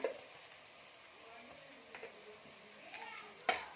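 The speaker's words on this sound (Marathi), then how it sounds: "इथे मी चार चमचे मसाला टाकलेले आहे तेलामध्ये छान परतून घ्यायचा आहे" Four spoonfuls of Kolhapuri masala, a fiery onion-garlic chutney, fry in hot oil in a pan for mutton sukka, giving a quiet, steady sizzle with a few light clicks and a sharp clatter near the end.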